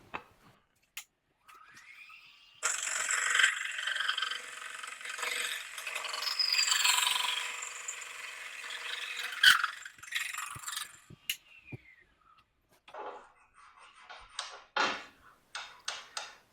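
A mill cuts through a steel bicycle fork tube clamped in a vise, giving a steady grinding, scraping whine for about seven seconds amid workshop ticks and clicks, then scattered metallic taps and rattles afterward.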